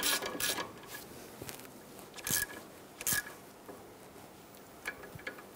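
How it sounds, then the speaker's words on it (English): A hand ratchet snugs down the crankshaft position sensor bolt on a 1999-2004 Jeep Grand Cherokee 4.7L, giving a few quiet, close clicking bursts separated by short pauses. "Now we're just gonna snug this down with our hand ratchet."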